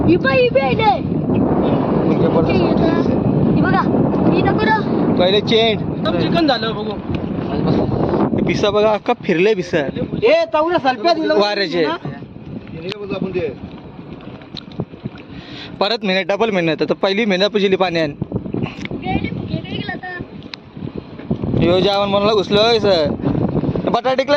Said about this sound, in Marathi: अजून पण जास्त आहे वारा सुटलाय